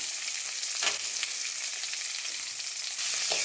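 Chopped onions and curry leaves sautéing in a pan for a chow chow and green pea poriyal, giving a steady close-up sizzle with faint scraping stirs, no voices.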